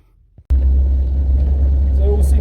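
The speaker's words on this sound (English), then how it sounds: "Just going for a test drive now. It seems to work, just going forwards and backwards on the driveway." A Land Rover Defender 200tdi diesel engine abruptly roars into a loud, steady, low rumble close by on a driveway test drive, after a brief quiet moment.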